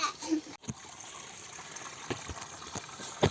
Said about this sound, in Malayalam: ഈ വെള്ളം ഇതിൻ്റെ അടിയിൽ കൂടെ ഒഴുകി ഒഴുകി ഒഴുകി ഒഴുകി എവിടെ പോകും?